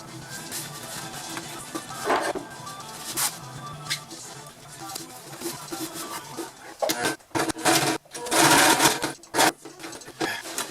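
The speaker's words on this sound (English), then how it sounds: "this is hopefully the last set of stitches for this particular project" A sewing machine stitches bimini canvas for a sailboat in short, uneven bursts of rapid mechanical chatter. Brief pauses separate the runs, and the final runs are louder and denser.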